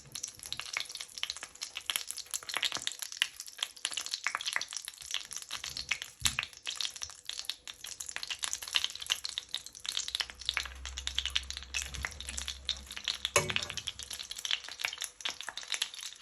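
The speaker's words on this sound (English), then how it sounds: "As you can see, they're starting to fry." Prawn and potato cakes sizzle and crackle in hot oil in a pan, a steady, dense frying hiss that carries on throughout with a low rumble joining near the end.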